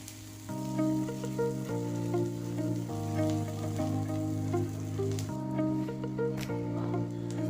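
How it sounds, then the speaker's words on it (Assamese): Onions frying in oil with a bay leaf, a steady close sizzle running throughout over a broad hiss, with a tonal hum or music underneath and no talk. "পিঁয়াজখিনি ৰংচুৱা হোৱালৈকে ভাজি থাকিব লাগে"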